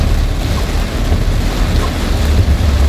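Heavy rain falls in a steady, loud broadband roar with low rumbling gusts, continuous and close throughout while floodwater rises near a village gate.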